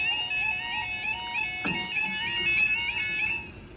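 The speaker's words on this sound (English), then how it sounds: "We have a very fixated alarm" A level crossing alarm at Noose Lane sounds without a break, its warbling electronic tones repeating steadily and fairly loud, with a brief clatter partway through.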